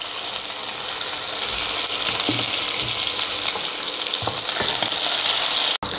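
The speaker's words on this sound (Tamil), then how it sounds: "முழுசாக தான் போடுறேன் வெங்காயம் நான் இப்போ. அது மாதிரி 15 பூண்டு பல்." Whole onions, garlic cloves and fennel seeds fry in hot oil for Chettinad egg gravy, a loud, steady sizzle with occasional stirring clinks, ending in a sharp click.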